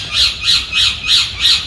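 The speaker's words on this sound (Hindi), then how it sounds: "तोते की आवाज़ भी आ रही है।" Parrot at Jaigarh fort giving a run of five harsh, loud squawks in a steady rhythm, close and alone without talk.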